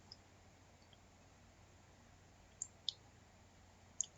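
A computer mouse clicks while connecting in Winbox, giving three faint, sharp clicks spaced apart over a low, quiet hiss.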